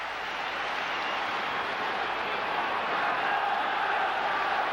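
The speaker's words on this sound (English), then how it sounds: "So the crowd respond to that." A large football stadium crowd of about 53,000 at a 1996 Champions League night match, Manchester United against Fenerbahçe, gives off a steady, sustained roar as it reacts before a corner kick, with no clear voices on top.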